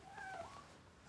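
A hungry cat gives a single drawn-out meow, soft and close, rising and then falling over about half a second against a quiet room.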